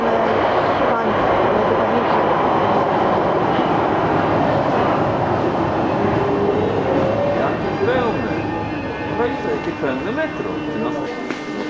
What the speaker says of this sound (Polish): Teraz jedzie pociąg, ale pojedzie w stronę końca.